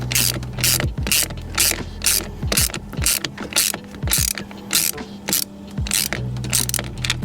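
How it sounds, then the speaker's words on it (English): A bolt being tightened down with a ratchet, giving a loud, close series of rapid clicking pawl bursts in an uneven rhythm with short pauses between strokes, no talking. "now I'm just going to tighten down our bolt, get it nice and snug on here"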